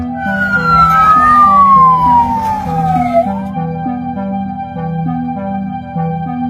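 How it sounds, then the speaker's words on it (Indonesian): An air raid siren in Israel during an Iranian missile attack wails and glides downward over a few seconds, above a repeating low electronic tone pattern that continues after it fades. "sejak sirine berbunyi untuk masuk ke ruang perlindungan"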